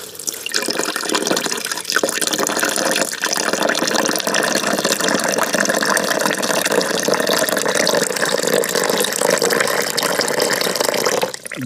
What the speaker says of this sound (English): That's actually what that sound effect is coffee.